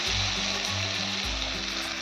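Spiced masala for a beetroot dhokar dalna, with nearly cooked potatoes, sizzles and fries steadily in a pan, a continuous close hiss with a low rumble that swells and dips in two slow pulses.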